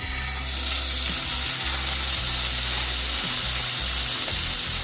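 Bhetki fish fillets frying in hot oil for a madhu kasundi fry, a loud, steady, close sizzle that swells as the fish goes in and hisses on without a break.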